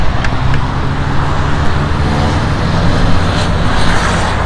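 Steady traffic passes on a busy road beside a car wash, a continuous, fairly loud rumble and tire hiss with low engine drone and occasional brief swells as vehicles go by, no voices.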